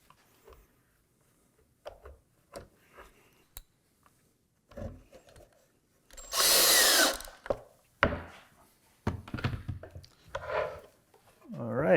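A power drill drives screws into MDF for a sliding router table, giving short bursts of whirring and one longer loud run, separated by brief pauses and small handling knocks and scrapes.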